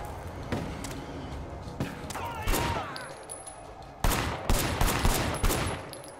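Gunfire in the open-world action game Sleeping Dogs: sharp broadband shots, a few scattered blasts early and then a louder cluster of rapid reports near the end, over game ambience and faint background talk.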